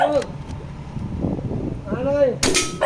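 A Manlapat airgun fires meteor pellets, giving a sharp crack near the end after some brief voiced sounds and background noise.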